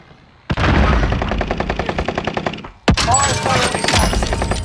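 Rapid automatic gunfire in the video game Call of Duty: Modern Warfare, loud and close: one sustained burst of about two seconds, a brief pause, then a second heavy volley that keeps going to the end.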